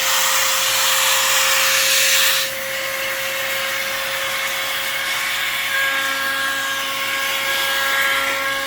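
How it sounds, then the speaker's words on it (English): A 2-in-1 mini air duster and vacuum running at its lowest setting, a loud, steady high-pitched motor whine with a constant tonal hum that shifts slightly in pitch partway through, heard alone and close. "I'm going to show you guys how to clean the actual with the vacuum. So I'm going to click it once. That's level 1."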